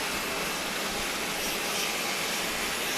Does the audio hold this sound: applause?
no